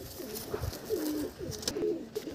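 Desi pigeons coo in a loft, a few soft, rounded coos rising and falling across a couple of seconds, fairly close with some faint background rustle and no talking.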